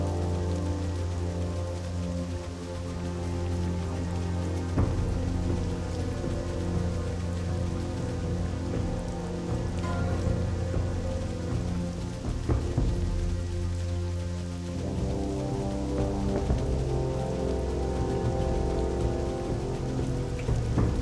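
Rain falling in a swamp zone of World of Warcraft Classic, a steady dense patter with game ambience and low tones underneath, continuous and fairly loud throughout.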